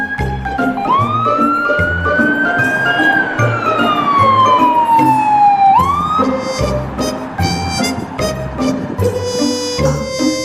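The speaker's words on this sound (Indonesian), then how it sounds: "Yang ini ada mobil polisi ambulans." A toy police car and ambulance siren wails loudly and continuously, its tone sweeping up and down in long electronic glides over steady clicking and rattling from the toy.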